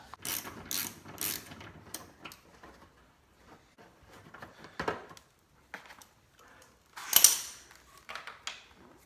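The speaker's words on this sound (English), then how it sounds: "a 5/16 socket fits it really good. So we're gonna just remove that." A ratchet with a 5/16 socket loosening an 8 mm bolt on the bumper of a 2010 Hyundai Accent, with bursts of rapid clicking ratchet strokes and pauses between them, close and fairly quiet.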